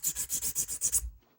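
A file rasps against an edge piece of a big puzzle cube in eight quick, even strokes, close and distinct, ending in silence.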